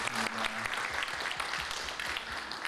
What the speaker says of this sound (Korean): 우리 지 목사님 박수 한번 드리겠습니다